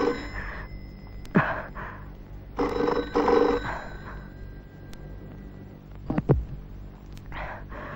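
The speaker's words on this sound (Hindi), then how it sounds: "मालिक, टेलीफोन बजने दो।" A telephone rings in an indoor room in a 1983 Hindi film scene, about three separate bursts of ringing spaced a second or two apart, fairly faint, with no talking.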